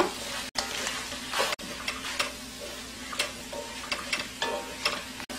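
Vegetables stir-fried in a pan as the base for jjamppong seafood noodle broth: a steady close sizzle, with repeated scrapes and clacks of a utensil tossing the pieces and a few brief pauses.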